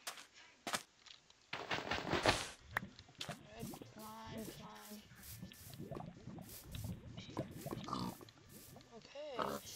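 Pigs in Minecraft grunt and oink in short, scattered calls alongside clicks and game effects, fairly faint in the mix, while a person talks over them.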